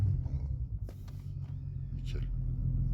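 VW Golf 4 V6 24-valve AUE engine on an E85 tune, running as a low rumbling idle with a brief throttle blip, close by, with people talking faintly in the background.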